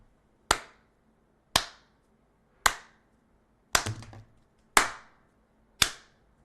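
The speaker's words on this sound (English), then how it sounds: "I give that slow, sarcastic freaking round of applause to everybody in NATO" Slow, deliberate hand claps ring out one at a time, six sharp crisp claps spaced roughly a second apart, close and alone in otherwise quiet surroundings.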